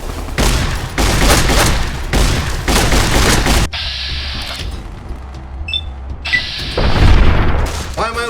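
An explosion in Fallout New Vegas: loud, dense rumbling blasts in repeated bursts, a sudden drop to a quieter ringing tail, then another heavy roar of blast noise near the end.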